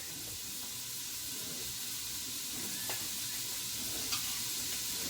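Onions and garlic sizzle in a pan over medium heat for goulash. A soft, even frying hiss holds throughout, with a couple of faint clicks from stirring.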